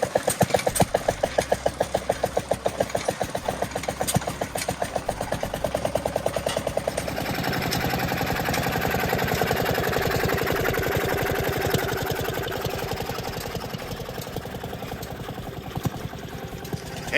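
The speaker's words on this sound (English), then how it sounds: "Vaughn drag saw. Wow. 1915, did you say?" A 1915 Vaughn drag saw engine runs at a show of old gas and steam engines, chugging in a steady close rhythm of rapid firing pulses, then smoothing into a continuous drone.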